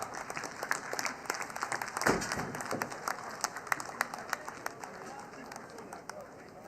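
An audience applauds Sindh chief minister Syed Murad Ali Shah at an event with a steady, crackling wash of clapping while a voice speaks over it.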